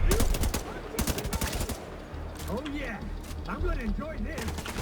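Rapid bursts of automatic gunfire ring out in the shooter game The Division 2, dense clattering volleys at first, then sparser shots and sweeping effects, with a voice talking over the action.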